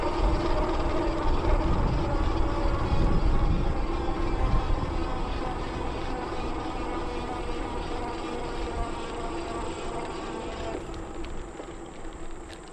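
A Metakoo Cybertrack 300 e-bike climbing a steep hill outdoors, a steady loud roar of wind and motor noise that eases slightly toward the end.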